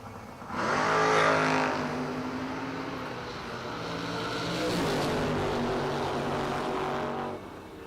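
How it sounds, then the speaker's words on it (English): A 1962 convertible Corvette launches in a drag race with a loud engine roar. The revving holds strong, dips briefly, then surges again before cutting off at the end of the run. "Roger Markham over here in the left lane, 62 convertible Corvette. Take on Chris Galletti."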